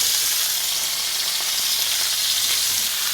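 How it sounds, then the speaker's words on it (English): Onions and peppers sizzle and fry steadily in a hot pan on high heat, a dense, even crackle that runs without a break and stays close and loud throughout, with no talking. "now I'm putting in the onions and peppers"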